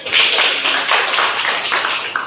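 Classroom applause for a student group presenting in a teacher-training lesson, a dense continuous patter of many hands clapping at close range for a couple of seconds.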